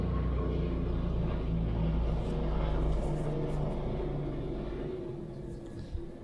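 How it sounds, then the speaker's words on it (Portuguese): An airplane flies low past a house, a broad continuous roar and rumble that stays loud and close before slowly easing off, with a voice faintly present underneath. "passa um puta avião do lado da minha casa"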